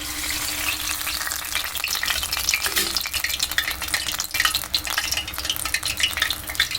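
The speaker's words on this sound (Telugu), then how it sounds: "ఇప్పుడు ఇలా వేసుకొని ఇలా నూనెలో వేసుకోవాలి" Jantikalu dough drops into hot oil and fries with a dense, loud, crackling bubble that swells and holds throughout, close up with no voices.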